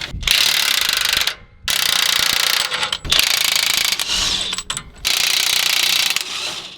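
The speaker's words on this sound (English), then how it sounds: "next we're going to use a 15/16 socket to get these nuts off." A ratchet fitted with a 15/16 socket backs U-bolt nuts off a Ford F-250/F-350 during a lift kit installation, giving loud, close clicking runs that stop and restart several times.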